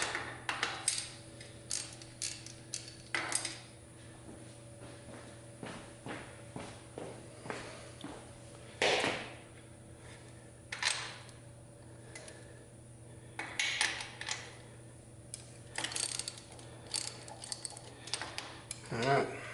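Bolts are loosened with a wrench during a camshaft install on a 106 Victory engine, giving scattered quiet metallic clicks and clanks with pauses between, close but faint in a quiet workshop.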